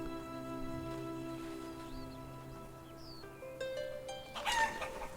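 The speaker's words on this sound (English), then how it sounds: "a couple of chickens have popped up" Chickens cluck softly in the village game Life is Feudal: Forest Village, with one louder squawk and a burst of flapping near the end over a steady background music drone.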